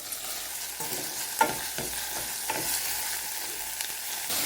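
Minced meat fries with onion and garlic in a pan for a pumpkin dish, a continuous close sizzle with occasional clicks and taps of stirring.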